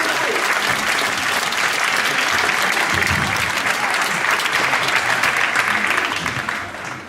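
An audience at a mentalism magic show claps, dense sustained applause filling the room for several seconds before tapering off at the end.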